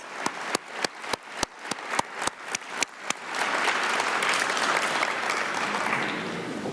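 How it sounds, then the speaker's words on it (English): An audience at an annual meetings plenary claps in a steady unison beat for about a dozen claps, which then dissolves into a sustained wash of scattered applause from the crowd. "A big round of applause for the shareholders."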